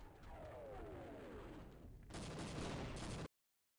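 Gunfire bursts from the video game Half-Life, a dense crackling volley that swells louder near the end before cutting off abruptly, with a falling whine earlier and no speech over it.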